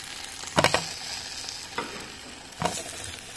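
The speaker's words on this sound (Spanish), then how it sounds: "Y en este mismo sartén voy a poner el jitomate." Tomato dropped into a hot skillet where chiles were just toasted, for a Mexican salsa: three bursts of loud sizzling with stirring, settling into a steady frying hiss between them, with no talk.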